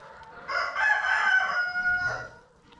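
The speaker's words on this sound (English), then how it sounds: "The rooster's crowing." A backyard rooster crows once, a loud, close, drawn-out call that rises and holds before trailing off, with no talking.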